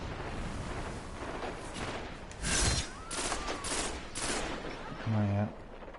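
Bursts of gunfire in the video game Destiny, rapid crackling shots in several clusters mixed with booming impacts, loud and dense, with a brief electronic tone near the end and a voice talking over it.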